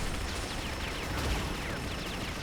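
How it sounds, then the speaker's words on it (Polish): Rocket blasts and weapon fire from the arena shooter Unreal Tournament, a dense continuous barrage of booming hits and crackling bursts filling the whole stretch, loud and close with no talk over it. "wybuch rakiety zranił kolesia"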